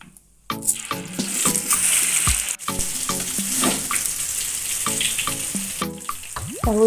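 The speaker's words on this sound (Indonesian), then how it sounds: "Lanjut kita goreng tahunya." Tofu frying in hot oil for a large batch of Padang-style capcay, a steady sizzle with clinks and scrapes of a utensil stirring throughout, close and fairly loud.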